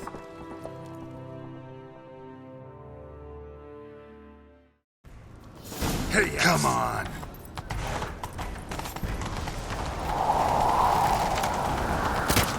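Horse hooves in The Witcher 3 video game clatter in a quick galloping rhythm after a short music passage, with someone shouting over the hoofbeats and game sounds.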